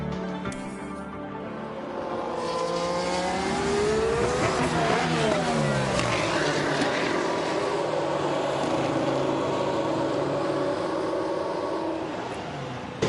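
Formula 1 race cars in the F1 Manager 2022 game, a sustained, loud engine whine that rises and falls in pitch as the cars pull back into the garage, with no talk.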